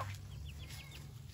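A duck gives a few faint, quick calls at a distance over a steady low background rumble, with no voices.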